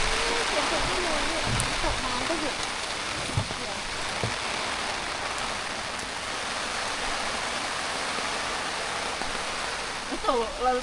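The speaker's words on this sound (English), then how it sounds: "Pouring down rain." Heavy rain pours down steadily at a remote mountain campsite in Mae Wong National Park, a dense, even roar of drops on surfaces that lasts throughout, with faint voices briefly surfacing near the end.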